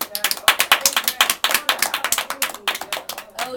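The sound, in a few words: studio audience clapping for the cast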